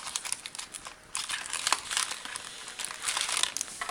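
A 551 XL printer ink cartridge is pulled from its packaging, producing close, crisp crinkling and rustling of cardboard and wrapping in uneven bursts after a brief pause, with no speech.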